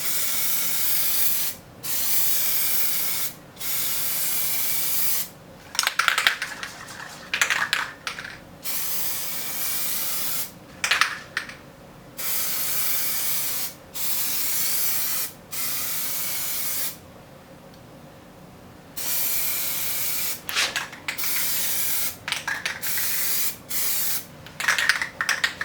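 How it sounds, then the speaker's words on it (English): An aerosol can of Koi Orange Plasti Dip spraying wet coats onto a guitar, a series of loud, close hissing bursts of several seconds each, separated by short gaps and faint handling noises. "Now for the second coat and all the rest of the coats, they're going to be really wet"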